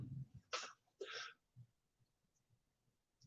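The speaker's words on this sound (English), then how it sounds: "I got to sneeze." A person sneezes twice in quick succession, two sharp close bursts, followed by soft breathing and quiet throat noises.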